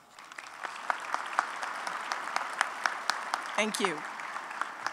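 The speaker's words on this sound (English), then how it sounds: "Let's give our winners one more round of applause." At a city address, an audience applauds award winners with a steady, moderately loud patter of clapping, and a brief spoken thanks comes through near the end.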